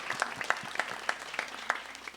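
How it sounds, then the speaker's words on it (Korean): A small church congregation claps during a Sunday worship service, a loose scattering of individual claps with a few sharp peaks, fairly close and alone. "우리 박수로 축복해 주시면 감사하겠습니다."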